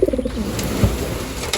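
Racing pigeons in a loft give low, throaty coos close by, with several rolling calls overlapping against quiet background noise.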